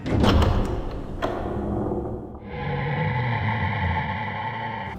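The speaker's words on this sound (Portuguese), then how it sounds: "com o som de uma porta abrindo bem devagar" A door in a survival horror video game creaks slowly open, a long sustained groaning tone rising out of a brief thud and lingering steadily for several seconds.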